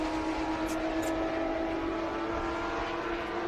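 Race cars at the Road Atlanta SpeedTour roar past with a sustained, droning engine tone, moderately distant and continuous, with a faint higher whine passing briefly.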